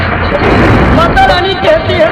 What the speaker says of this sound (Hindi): मंदिर से धमाके की आवाज आई।